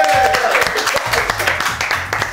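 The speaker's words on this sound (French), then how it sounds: "on applaudit Axel qui s'en va" A studio audience claps on a French general-knowledge quiz show, with moderately loud applause mixed with voices and background music throughout.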